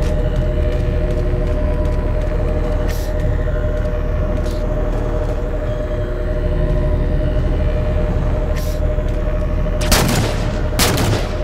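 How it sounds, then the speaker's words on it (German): Gunfire in the Halo 4 video game cracks out in a few sharp bursts, the loudest clustered near the end, over a constant low rumbling engine drone. "Schuss! Steuerbordseite!"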